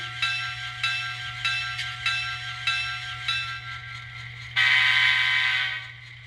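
A Kato E8 N scale model locomotive's TSU-KN1 sound decoder blows a grade crossing horn sequence, a series of short horn blasts ending in one long sustained blast, with a faint bell ringing behind and a steady low hum throughout.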